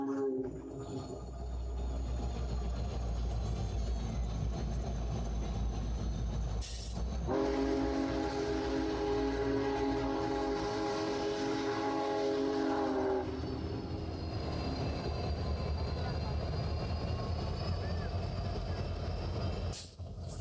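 A huge Big Boy steam locomotive crosses a massive bridge, a steady rumbling train roar sustained throughout with a strong horn-like tonal blast in the middle, heard from a distance with faint background voices.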